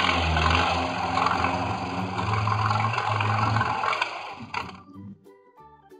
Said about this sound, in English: Tractor.